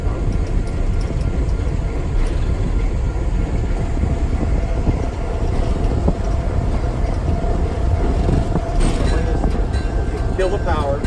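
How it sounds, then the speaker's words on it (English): An early Southern Pacific electric locomotive built for large railroads runs with a loud, steady rumble and drone, continuous and close, with a faint higher whine entering near the end. "this is the first model that they had of a locomotive for large railroads"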